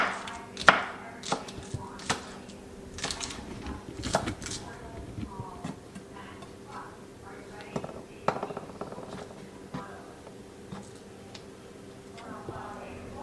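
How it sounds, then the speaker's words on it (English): A knife chops green onions into tiny pieces on a board, making irregular sharp taps that come fast in the first few seconds and then scatter, with a person talking over part of it. "Now we'll do the green onions. Same thing, very tiny, small pieces."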